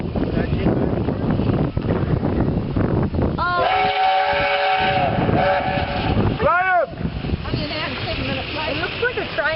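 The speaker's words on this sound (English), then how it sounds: "It is a train." A loud, steady rumble of a passing train continues throughout, with whistle-like tonal blasts sounding midway and again later, while people talk over it.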